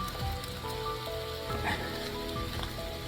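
Rain patters in a deep forest in Laos during a camping trip, a soft continuous hiss with scattered drips and light taps close by, quiet and even, with bird-like chirps faintly threaded through.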